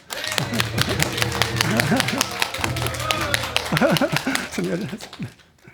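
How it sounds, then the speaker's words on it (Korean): An audience at a Buddhist dharma talk gives dense, sustained applause to welcome a temple's head monk. A voice speaks over the clapping, and the applause fades out in the final moment. "이런 큰 박수 부탁드리겠습니다"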